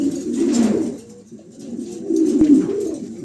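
A pair of American Lakka pigeons, almond Lakka, coo steadily from close by in a bird market, with soft repeated throaty calls running through the whole stretch and no talk.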